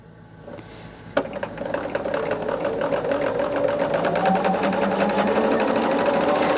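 A sewing machine stitches quilt pieces together, starting with a click and then a fast, even rattling hum of the needle that builds and runs steadily close by.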